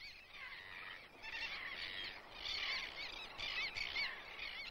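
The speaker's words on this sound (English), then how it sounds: "Royal terns roost in a tightly bunched colony." A tightly bunched roosting colony of royal terns calls constantly, a mass of harsh, overlapping squawks that swells and fades, steady and fairly distant.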